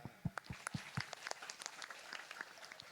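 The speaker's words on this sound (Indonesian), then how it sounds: "Tepuk tangan." Scattered applause from an audience at an outdoor religious gathering in a village, with irregular individual claps that start sharp and close, then thin into lighter, quieter patter.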